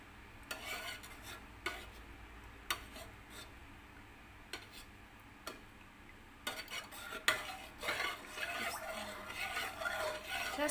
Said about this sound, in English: Just keep on stirring.